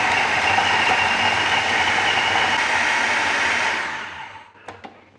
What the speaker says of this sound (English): we've got that in the processor. Close the lid, make sure everything's good, and give it a blitz.